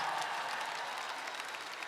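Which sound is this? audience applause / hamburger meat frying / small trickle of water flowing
audience applause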